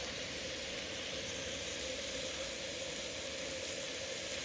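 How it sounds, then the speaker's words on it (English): Skirt steak seasoned with salt and pepper sizzles on a Coleman grill at a campsite, giving a steady, unbroken hiss at moderate volume with no voices. "Skirt steak on a Coleman grill"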